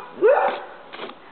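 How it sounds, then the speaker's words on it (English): One dog barks sharply, followed by a softer second bark, sounding slightly distant against a quiet background. "There the dogs are barking at in the background."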